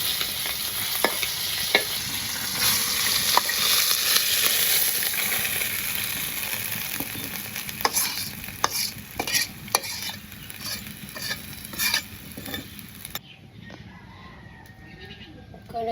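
Fish sizzles loudly in hot oil in a wok as a utensil stirs and scrapes with intermittent clinks, the frying cutting off near the end to leave a quieter background.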